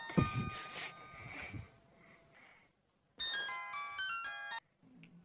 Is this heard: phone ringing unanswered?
yes